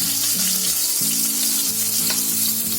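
Chopped onion sizzles steadily in hot oil in a pan, a dense continuous frying hiss with faint stirring scrapes and a low background hum, no talking.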